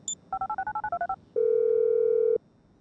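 A mobile phone dials to detonate a bomb in GTA 5. About ten quick electronic keypad beeps play in a rapid run, followed by a single steady tone lasting about a second. The sound is loud and close.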